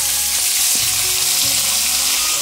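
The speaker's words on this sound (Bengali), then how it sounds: "দুবার লাগবে মাছগুলো ভাজতে" Pieces of fish frying in hot oil, a loud, dense, close-up sizzle that crackles continuously with no voices.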